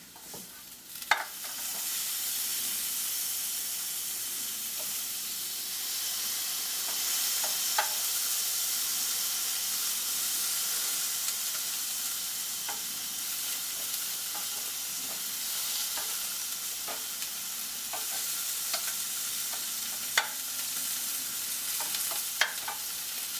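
Food sizzles steadily on a Delonghi Perfecto indoor grill, a constant bright hiss of frying oil with a few clicks and scrapes as the pieces are turned over.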